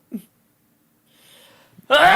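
A single short sneeze bursts out near the start, then a quiet breath follows, and a voice begins speaking just after.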